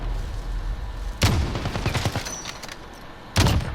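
Sniper rifle fire in Call of Duty: Modern Warfare comes as two heavy booming shots a couple of seconds apart, each with a rolling tail, over steady game ambience.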